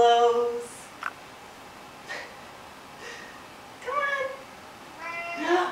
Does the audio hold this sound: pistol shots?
no